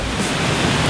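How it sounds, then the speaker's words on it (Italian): Dense, steady roar of a waterfall in Bali, loud and close, a continuous wash of falling water with no voices. "Il rumore è quello di una cascata."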